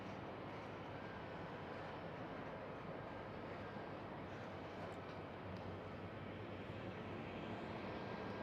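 A Boeing Dreamliner jet airliner at Schiphol airport, a faint, broad engine rumble and roar held steady from start to finish, distant and alone.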